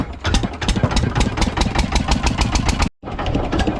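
A fishing boat's engine out at sea near the Andaman Islands runs loud and close with a rapid, throbbing chug, cuts out abruptly for a moment, then fires up and chugs again.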